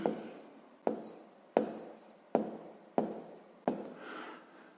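A pen writes out a maths answer by hand in six distinct scratchy strokes, each a sharp onset that trails off, spaced roughly evenly, close and fairly quiet with no talking.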